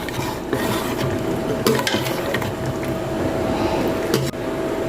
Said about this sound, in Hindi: गरम मसाला डाल के इसको अच्छी तरह मिक्स करेंगे।